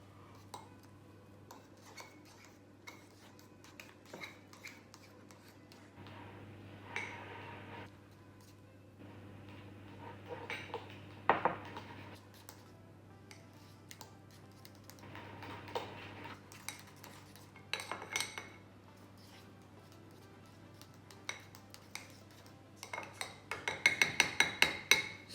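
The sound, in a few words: mixing pasta with egg and cheese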